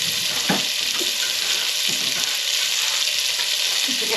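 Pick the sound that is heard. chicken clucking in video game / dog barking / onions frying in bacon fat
onions frying in bacon fat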